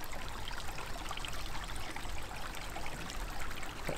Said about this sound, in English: That beautiful sound of running water.